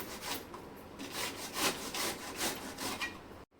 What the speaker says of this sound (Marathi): किसमी घेतली आहे आणि अशा पद्धतीने किसून घ्यायचं आहे